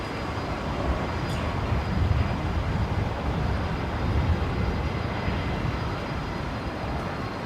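Jet airliner in Southern Cross Minor livery rolling at Brisbane Airport, a steady broad engine roar that holds loud and even throughout, with no voices.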